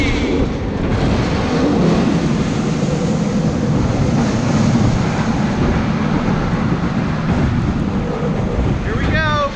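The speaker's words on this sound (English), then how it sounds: "This ride makes some funky noises." The Cyclone roller coaster at Toshimaen in Japan roars along its track with loud rattling, rushing wind buffeting the microphone and a rising screech of wheels near the end, all up close from on board.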